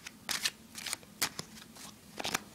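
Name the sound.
playing cards, false overhand shuffle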